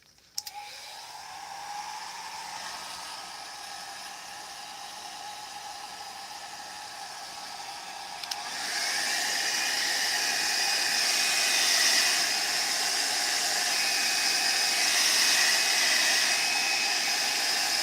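A hair dryer dries watercolor paint swatches, blowing as a steady hiss that jumps louder and brighter about halfway through when the airflow increases, with no one talking.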